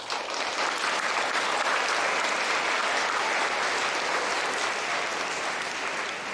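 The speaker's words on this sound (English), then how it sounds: "please stand if you are able so that we can thank you with a round of applause" Sustained, dense applause from an audience of veterans' honorees and guests at an elementary school Veterans Day program, steady and loud throughout with no clear speech.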